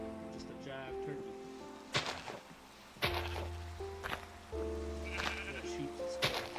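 Sheep in the Minecraft video game bleat several times in short tonal calls, mixed with sharp clicks, thuds and a low hum of game sounds.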